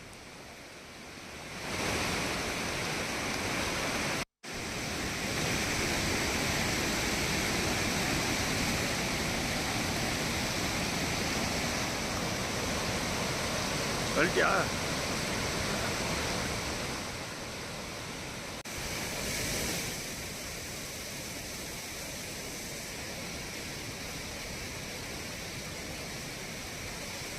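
The flooding Cauvery river at Hogenakkal roars as a broad, continuous wash of rushing water heard from a distance, with a brief break early on and a single short word spoken midway.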